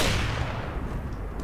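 Gunfire from the CS:GO shooter game, a loud burst right at the start with continuous dense low rumble and reverberant tail, sustained throughout without voices.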